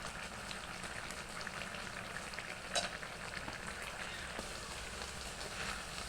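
Taro stolons (kochur loti) cooking with lentils in a pan, a steady, soft bubbling sizzle that holds even throughout at a low level, with an occasional faint clink or tap.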